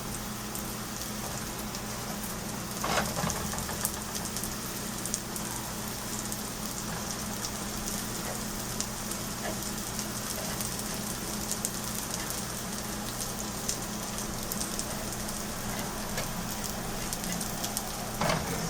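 Chicken nuggets frying in a pan with very little oil, a steady crackling sizzle with scattered pops running continuously at an even level.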